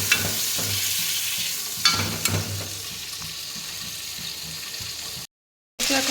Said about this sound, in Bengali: চিংড়ি মাছ বেশি ভাজবো না ভাজলে এটা শক্ত হয়ে যায় হালকা ভেজে তুলে নেবো